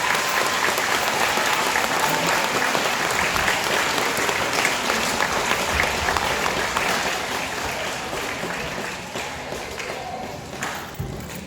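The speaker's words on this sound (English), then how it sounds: "Big round of applause for these guys." Sustained applause from an audience at a school event, loud and dense clapping for performers that gradually thins toward the end, with no talking over it.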